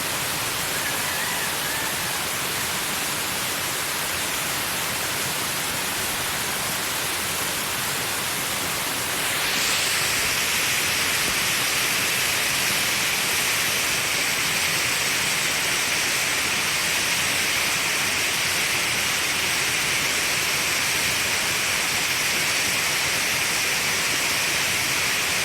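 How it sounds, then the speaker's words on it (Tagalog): Tarawis Falls near Rodriguez, Rizal, thunders as a dense, constant roar of rushing water, loud and near, growing fuller partway through with no break and no voices. "dito na tayo sa tuktok ng Tarawis Falls"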